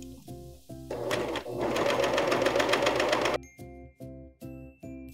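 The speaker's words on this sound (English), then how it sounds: "Now that we're at the serger, it's time to finish the raw edge on the sweater." A serger sewing machine finishes the raw edge of a sweater: rapid steady mechanical stitching whirs loudly for about two and a half seconds between slower, spaced motor pulses and clicks, close by with no talk.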